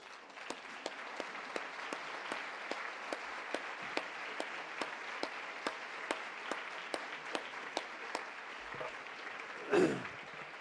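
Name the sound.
audience applause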